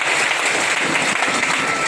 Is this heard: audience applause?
yes